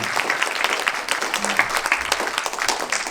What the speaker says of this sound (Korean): 한번 뜨거운 박수 부탁드리겠습니다.